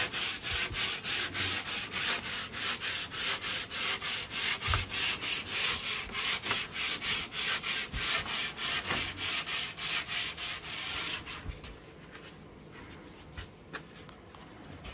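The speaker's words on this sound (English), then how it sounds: "I fold my sandpaper right here, and that's what I put up against the edge." Folded sandpaper worked by hand along the edges of oak wood, a close rhythmic rasping of quick strokes that thins to lighter, scattered rubbing near the end.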